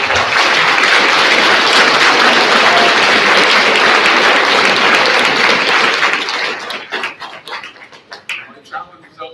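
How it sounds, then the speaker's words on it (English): A school spirit-awards crowd applauds the coaches with a loud, dense roar of clapping and cheering for about six seconds, then it breaks up into scattered individual claps and fades into voices. "They deserve a round of applause."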